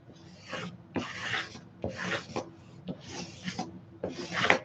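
Tape being burnished onto fabric with a credit card makes close, raspy rubbing strokes in a steady rhythm of about five firm passes, each a short scraping sweep.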